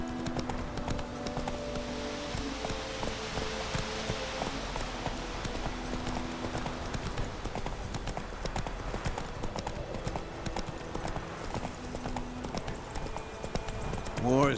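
Horse hooves clip-clop steadily as a horse is ridden in The Witcher 3 video game, a continuous rhythmic trot heard close under game music and ongoing character dialogue.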